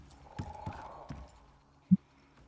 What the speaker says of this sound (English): Here's an angry horse.